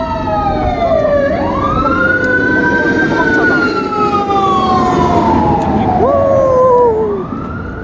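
Loud fire truck sirens in Los Angeles wail with rising and falling tones, overlapping one another up close under an engine rumble.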